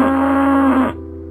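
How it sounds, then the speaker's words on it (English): A single cow moos in Cube Escape: The Mill, a loud sustained low call lasting nearly a second before cutting off, with no talk. "There's a cow up here for some reason."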